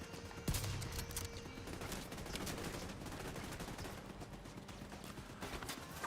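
Sustained rifle gunfire in The Division 2, a dense stream of overlapping shots and bursts with one sharp nearby blast early on, steady and moderately loud throughout.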